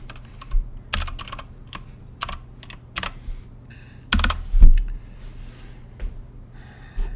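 Typing on a computer keyboard during a command-line session, with irregular bursts of close, crisp key clicks, a couple of heavier thumps and some breathing, and no speech.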